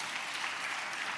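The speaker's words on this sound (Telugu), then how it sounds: "చప్పట్లు కొట్టాలి ఈ మాటకి" A church congregation claps steadily, a dense even patter of many hands sounding somewhat distant and fairly quiet for a brief moment.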